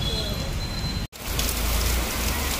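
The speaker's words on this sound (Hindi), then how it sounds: "नासिक में बारिश स्टार्ट हो गई है और ये पहली बारिश है यहाँ पे।" First rain of the season falling steadily in Nashik, a continuous broadband hiss of drops on surfaces, close and fairly loud, with a brief dropout about a second in.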